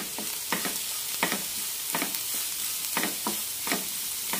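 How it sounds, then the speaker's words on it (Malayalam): A spoon stirs cauliflower and red gram stir fry in a hot pan. There are repeated short scraping strokes over a soft, steady sizzle, fairly close and moderately quiet, with no talk. "നന്നായി ഇളക്കി യോജിപ്പിക്കാം."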